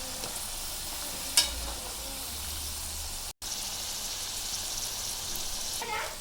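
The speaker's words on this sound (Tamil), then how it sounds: "மிச்சம் இருக்கிறத போட்டு பொரிச்சு எடுத்துக்கலாம்." French fries deep-frying in hot oil over a high flame give a steady, close sizzling hiss throughout, with a brief stir-like clatter near the start and a short break midway.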